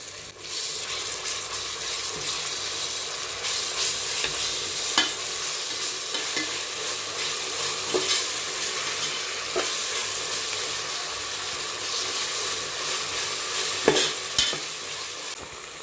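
Ginger garlic paste frying in a pan with mint for a pressure-cooker mushroom biryani, a continuous close sizzle with occasional sharper pops and spoon scrapes, steady throughout with no talking.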